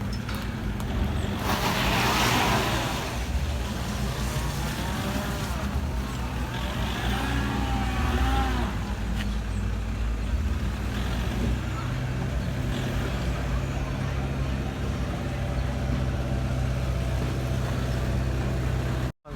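A heavy merchant's truck stuck in mud strains as a farm tractor pulls it out, engines rumbling low and continuous, with a crowd talking and shouting nearby throughout.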